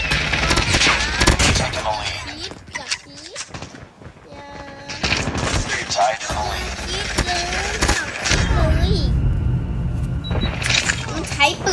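Bursts of rapid automatic gunfire from the video game Call of Duty rattle through the mix, repeatedly broken up and partly masked by a person talking loudly over them.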